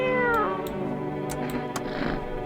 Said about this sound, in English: Oh, hey, kitty cat.